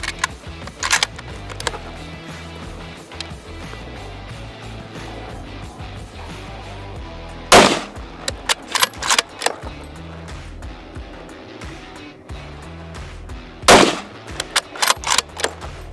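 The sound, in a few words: Sako 90 rifle shots, Winchester 150 grain ballistic silver tips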